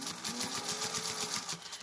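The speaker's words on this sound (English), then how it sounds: "And now I'm just going to do a 1/4 inch seam down this way" Sewing machine running steadily as it stitches a quarter-inch seam along a placemat binding, a continuous close whirring with rapid rhythmic needle pulses throughout.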